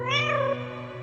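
A single drawn-out cat meow from the video game Joyville 2, clear and close, rising and then falling before it trails off into quiet.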